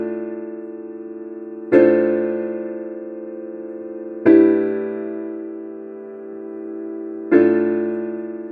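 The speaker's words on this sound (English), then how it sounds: "which is just a little piano kind of solo," Solo piano closes a song with three sustained chords struck a few seconds apart. Each rings out and slowly decays in a quiet room.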